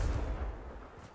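A Confringo blasting spell in Hogwarts Legacy goes off as a short, booming low blast that fades into a rumbling tail.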